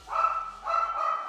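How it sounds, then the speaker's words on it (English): Two dogs barking indoors after a doorbell rang, two loud, close, drawn-out barks in quick succession with no talk over them. "And the dogs are going nuts."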